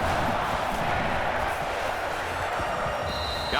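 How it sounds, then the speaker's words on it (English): Dense, steady roar of a packed stadium crowd cheering at an LSU at Florida college football game in NCAA 14, loud and continuous throughout with no letup. "They're one of the loudest crowds in the country"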